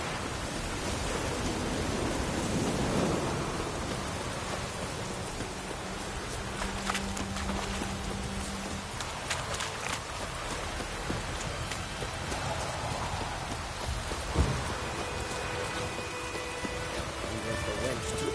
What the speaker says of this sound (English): Let it rain. Wash the blood from the fields.